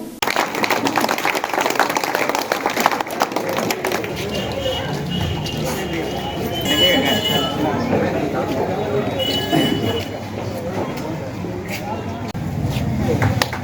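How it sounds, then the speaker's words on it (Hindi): Applause at a Congress party minority department event in Asansol, steady hall-wide clapping sustained throughout with a dense crowd texture. "ताली बजते रहे भाई।"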